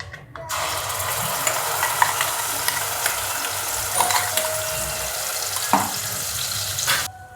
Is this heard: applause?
no